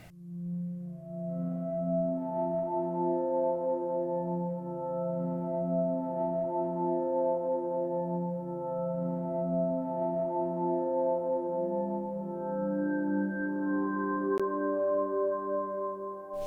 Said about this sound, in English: the one other thing you will see here is these Stratus synth swarms from the Oliver Arnold's Stratus sample libr